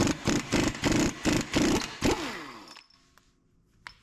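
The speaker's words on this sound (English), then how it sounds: "Now use your impact gun, hopefully it comes loose." An impact gun hammers at a Jeep Liberty axle nut during a wheel bearing job, sounding as a rapid series of loud bursts for about two seconds before the tool spins down and stops, followed by a few faint clicks.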